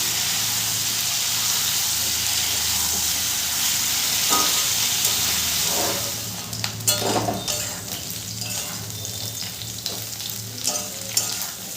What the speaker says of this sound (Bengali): গ্যাসের ফ্লেমটাকে মিডিয়ামে রেখে আমি নেড়ে চেড়ে লাল লাল করে ইঁচড়গুলোকে ভেজে নিই।